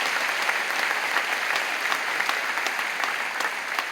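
A church congregation applauds the choir at a summer retreat evening service: loud, sustained, even clapping from a large crowd filling the whole moment, with no talking over it.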